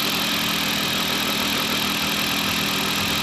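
Old car engine idling with the belts off and no coolant, a steady, loud rumbling drone with constant roughness, heard close and alone without speech.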